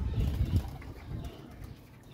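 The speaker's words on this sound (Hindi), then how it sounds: "किसी का कबूतर आया।" A pigeon comes down onto a loft, with low soft cooing and a muffled flutter near the start, fading to quieter rustling.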